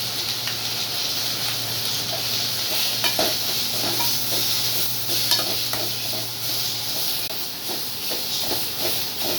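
Mint leaves sautéed in a pan with salt and asafoetida give a continuous sizzle and hiss, with occasional soft stirring scrapes and a faint steady hum in the background.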